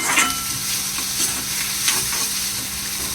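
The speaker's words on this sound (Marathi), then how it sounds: "कढीपत्ता टाकते थोडे परतून व्यवस्थित घेतला ना" Curry leaves sautéing in hot oil in a pan, giving a close, steady crackling sizzle throughout with light stirring scrapes near the start.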